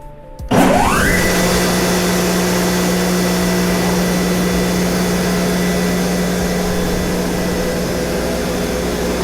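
A Mereen Johnson 435-H multiblade gang rip saw starts up with a sudden rising whine and settles into a steady, loud, continuous hum. It runs evenly for the rest of the stretch, with no one talking.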